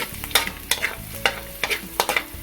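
Garlic sautés in a hot pan with a light sizzle under repeated scraping and stirring strokes of a utensil, close and moderately loud, in a rhythm of quick scrapes about every half second.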